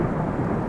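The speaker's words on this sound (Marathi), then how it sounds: "बाहेर पाऊस आणि जोरदार वारा सुरू झाला" A thunderstorm sound effect with rain and strong wind gives a brief, dense low rumble with a rainy hiss on top.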